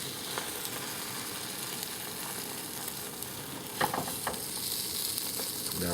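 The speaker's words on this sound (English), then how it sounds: "Now the omelette is cooked from underneath and the top is little water, a little liquid." An omelette with onion, tomato and green pepper fries in a pan with a constant close sizzle, with a few soft scraping clicks from a utensil partway through.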